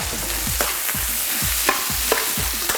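Beef-fat fried rice stir-fried with soy sauce in a pan, a steady sizzle broken by regular scraping and tossing strokes about every half second, close up, no talking.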